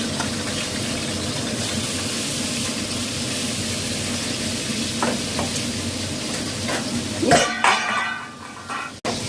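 Fish rubbed with salt and turmeric frying in hot oil, a steady close sizzle with occasional clinks of a utensil and stirring, growing busier and louder toward the end.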